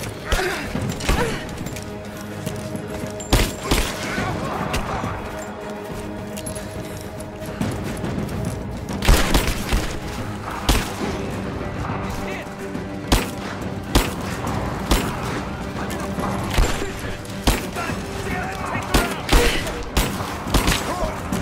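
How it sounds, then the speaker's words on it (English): Shotgun blasts and other gunfire in the video game Rise of the Tomb Raider, sharp repeated bangs at irregular intervals over a dense, busy battle background of crashes and thuds, with a voice heard briefly in places. "Oh, they got shotguns!"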